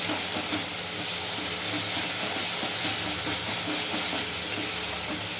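Spice paste with turmeric sizzling as it is sautéed in a pan, a steady, fairly quiet hiss and crackle that continues evenly throughout with no talking.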